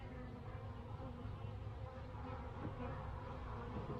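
Honeybees at a small queen mating nuc hive give off a steady, dense, close buzzing swarm drone that holds evenly throughout.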